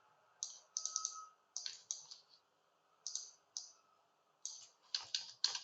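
Quiet, crisp keystrokes on a computer keyboard as an email address is typed, arriving in short irregular bursts of several clicks separated by brief pauses; no voices.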